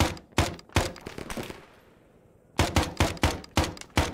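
Rapid gunfire in the Arma 3 Prairie Fire video game, loud sharp shots in bursts, a short pause with a fading echo, then another quick string of shots.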